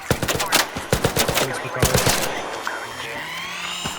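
Rapid bursts of automatic gunfire in the Arc Raiders video game crack in a quick, dense string, then give way to a sustained whirring, rising mechanical tone.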